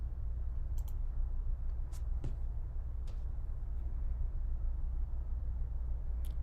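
A computer mouse clicks through an online sensory survey, several sharp, faint clicks spaced irregularly over a low steady room hum.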